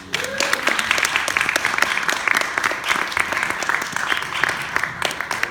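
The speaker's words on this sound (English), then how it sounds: "Let's give them another round of applause." An audience at a film screening Q&A applauds the filmmakers with sustained, close, energetic clapping throughout, with individual claps standing out within the steady roar.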